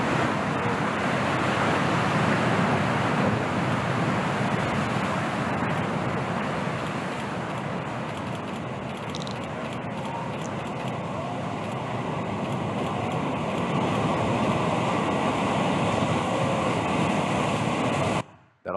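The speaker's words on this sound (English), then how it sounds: "surfing one of the biggest waves in history" A steady, roaring wash of huge ocean surf fills the whole stretch, a dense broadband rumble from one of the biggest waves ever surfed, loud and continuous before cutting off abruptly at the end.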